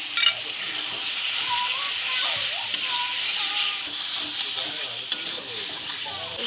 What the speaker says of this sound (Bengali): ভেজে রাখা আলুটা দিয়ে আরও 2 মিনিট কষিয়ে নেব।